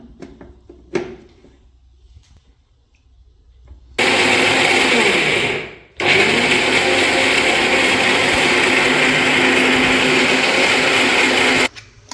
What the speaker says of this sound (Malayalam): ബാക്കിയുള്ള ഉഴുന്നും നമുക്കിതാ കുറേശ്ശെ കുറേശ്ശെ മിക്സിൻ്റെ ജാറിലേക്ക് ഇട്ട് കൊടുത്തിട്ട് ഒരു തുള്ളിയ വെള്ളമാക്കാൻ പാടില്ലേ ഇതുപോലെ ഒന്ന് അരച്ചെടുക്കുക